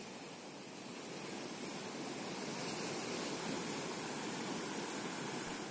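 Floodwater rushes over a bridge after heavy rain, a dense, unbroken roar of flowing water that stays steady and loud throughout.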